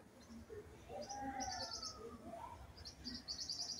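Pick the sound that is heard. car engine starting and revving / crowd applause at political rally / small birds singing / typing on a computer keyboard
small birds singing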